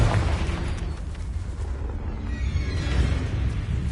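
A Confringo spell explosion in Hogwarts Legacy rumbles as a dense, sustained blast with a continuous roaring, crackling texture that holds steady and loud throughout.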